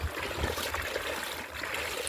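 Cyclone floodwater flows onto a road near the coast, a steady faint rushing and trickling wash that continues throughout without voices.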